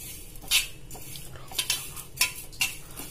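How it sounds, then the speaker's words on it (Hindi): Ajwain, cumin and coriander seeds dry-roasted on a tawa, stirred with a metal spoon that gives sharp scraping clinks at irregular intervals over a soft steady hiss, close up. "पहले इसे भून लेते हैं अच्छी तरह से।"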